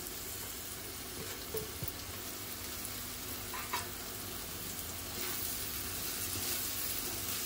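Vermicelli and vegetables sautéing together in a pan for upma, a faint, steady low sizzle with occasional light scraping clicks of stirring.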